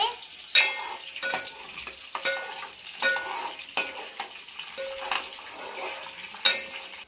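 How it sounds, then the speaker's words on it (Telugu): Chana dal and mustard seeds frying in hot oil while being stirred, a crisp sizzle punctuated by repeated spoon scrapes and clinks against the pan at an uneven rhythm, close and moderately loud; no talking. "తర్వాత శనగపప్పు ఆవాలు వేసుకోవాలి. ఒకసారి తిప్పాలి."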